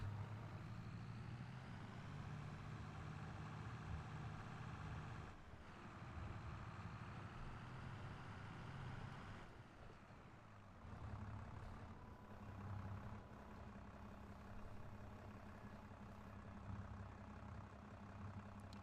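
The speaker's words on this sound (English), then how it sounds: "Is this tractor any good? A Fiat 605C?" A Fiat 605C tractor engine idles in the Farming Simulator game, a steady low diesel rumble that holds evenly throughout with slight dips, fairly faint and alone.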